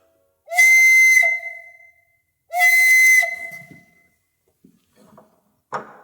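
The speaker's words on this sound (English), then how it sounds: "I've got a few of the 800 organ pipes here, just to give you a sense of what an organ pipe sounds like in this auditorium." A small organ pipe in an auditorium sounding a very high, pure note, held twice for about a second each, clear and fairly loud, followed by faint clicks and a brief noise.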